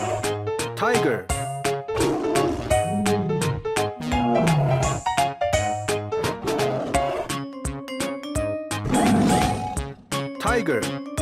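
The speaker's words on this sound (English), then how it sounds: "Tiger." A tiger gives repeated loud roars over a busy bed of music and voices.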